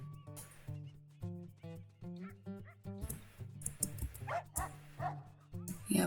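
Coyotes and dogs in the WolfQuest video game yip, yelp and whine in quick overlapping bursts, a busy pack chorus of high barks and whimpers that keeps going without a break.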